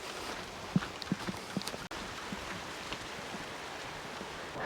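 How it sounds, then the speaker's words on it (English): Rain starts falling on an allotment garden, with a steady outdoor patter and hiss and a few louder drops early on, continuing evenly throughout. "Oh God, here comes the rain."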